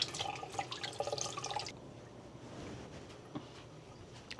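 Tap water runs into a kitchen sink while a potato masher is washed, a bright splashing flow for under two seconds, then fading to a faint wet rustle and quiet handling.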